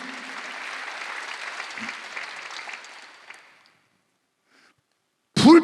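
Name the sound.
applause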